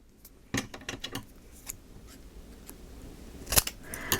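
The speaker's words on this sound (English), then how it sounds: "And then I'm just going to cut another one the same size." Scissors snip paper for a handmade photo album, giving several sharp close cuts in an uneven sequence with quieter rustling in between and a burst of snips near the end, no voices.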